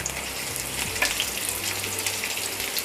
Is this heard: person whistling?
no